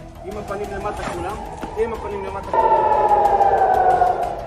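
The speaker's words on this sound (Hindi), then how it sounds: "पूरा जेरूसलम हवाई हमले के सायरनों से गूंज रहा है।" An air raid siren wails across Jerusalem amid background voices and clatter, then a louder, steady siren tone takes over for the final couple of seconds.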